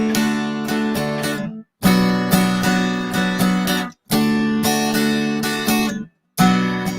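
An acoustic guitar is strummed in steady bright chords, each bar cut off by a short silent gap before the next chord lands late, giving a jerky, halting rhythm; close and loud with no voices.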